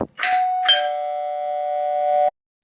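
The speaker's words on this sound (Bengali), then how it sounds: "এমন সময় কলিং বেলটা বেজে উঠল" A doorbell rings once, a two-note electronic chime with a clear first tone followed by a longer sustained second tone, close and alone before cutting off.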